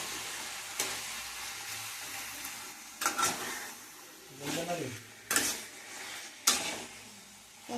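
Kachu shak (taro leaves) cooked with turmeric and salt is stirred in a pan, a soft sizzle under scattered scraping and knocking strokes of a spatula, fairly quiet and close.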